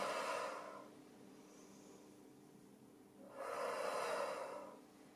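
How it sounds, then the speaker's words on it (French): Two breathy exhalations during a stretching exercise, one at the start and one a few seconds later, each a soft airy rush heard close up, with quiet between them. "et on expire"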